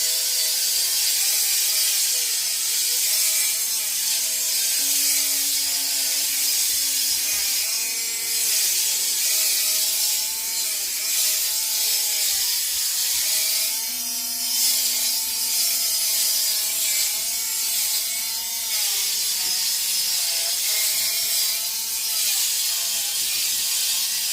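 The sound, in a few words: Dremel rotary tool grinding a dog's nails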